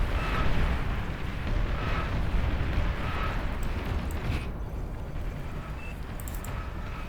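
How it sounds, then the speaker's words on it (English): Several massive nuclear blasts from the strategy game Beyond All Reason merge into a dense, loud, steady rumble with scattered pops and crackles, fading slightly toward the end. "Massive explosion."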